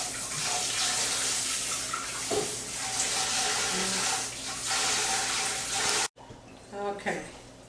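Corned beef rinsed under a running kitchen tap, a steady hiss of flowing water with small splashes and handling bumps, cut off abruptly near the end before brief quieter rustling.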